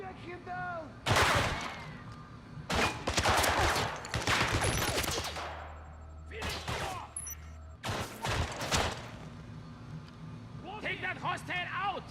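Video game James Bond 007: Blood Stone: heavy bursts of gunfire in a firefight, several loud volleys and sharp shots spread across the scene, with voices shouting between and over them.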